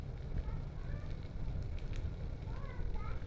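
Onion sizzles and crackles gently in a pan with ginger garlic paste, a soft continuous frying sound heard up close at low volume.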